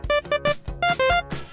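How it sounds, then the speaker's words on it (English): Bright, buzzy sawtooth-wave synthesizer notes in a quick choppy rhythm, several short stabs jumping between pitches. "So this is how a sawtooth sounds like."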